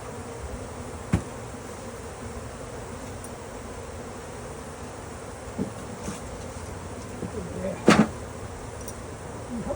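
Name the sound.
swarming bees buzzing around hives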